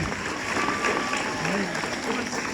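A room full of people claps together at an Islamic studies class demonstration in a dense, continuous burst of applause, fairly close and steady throughout.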